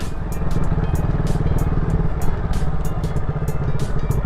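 A motorcycle rides over a rough road, its engine a steady close drone laced with continuous rattling and clattering from the bumpy surface, with no voices.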